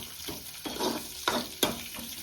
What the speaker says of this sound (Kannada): ಈರುಳ್ಳಿ ಮೆಣಸಿನ್ಕಾಯಿ ಎಲ್ಲ ಚೆನ್ನಾಗಿ ಫ್ರೈ ಮಾಡಬೇಕು